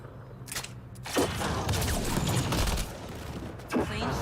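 Scattered gunfire in the Mass Effect Andromeda video game, with several sharp shots fairly close over a steady background rumble.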